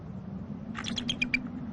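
A snow-covered female bald eagle on the nest screams at her mate, a quick series of about six sharp, high chirping calls rising above a low steady background hum.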